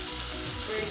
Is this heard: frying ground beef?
yes